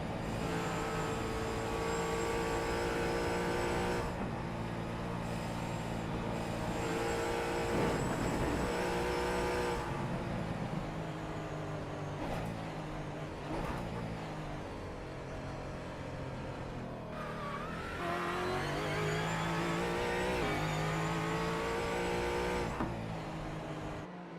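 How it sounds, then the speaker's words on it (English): Engine roar of a GT race car lapping Mount Panorama in a sim racing championship, a continuous loud drone rising and falling as throttle is applied and released under braking, with repeated pitch sweeps between gear changes. "Continue to watch these hands, listen to that throttle and brake go to work."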